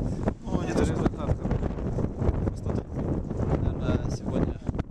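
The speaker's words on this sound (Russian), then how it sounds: "ветер сильный" Strong wind buffets a microphone outdoors at a 2014 cup final, a continuous loud roaring rumble with gusty swells throughout and no clear voices.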